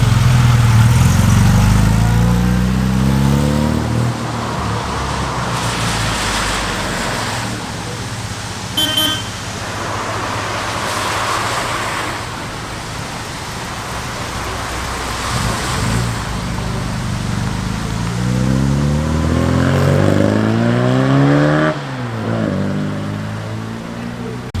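A convoy of Jaguar XJ cars with V8 and V6 engines passes at a breakfast car meet, a steady engine rumble and roadway noise swelling over nearly half a minute, with a short horn toot partway through.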